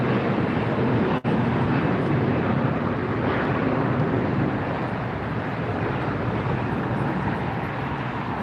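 A large airliner in the landing pattern at LAX, a loud continuous jet roar that fills the scene steadily, with wind rumble at the microphone and no talk.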